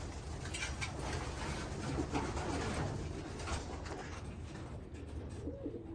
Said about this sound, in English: So this is what 77 young pigeons looks like.